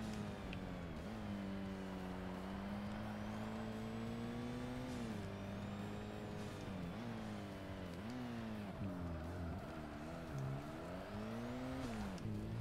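Mitsubishi Evo drifting around track corners in Forza Motorsport: a loud engine drone whose pitch swings up and down as it revs and backs off, with a faint tire screech running underneath.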